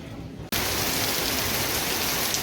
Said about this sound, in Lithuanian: Nu mes čia labai pakliuvom į gerą lietų. Jau minimum pusvalandį tiesiog pliekia.